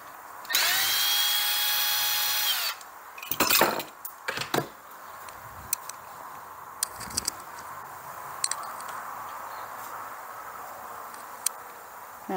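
A power drill backs a screw out from under the oil fill of a leaking four-stroke Troy-Bilt engine. A close, steady whine runs about two seconds, then come scattered clicks, taps and short rattles against quiet.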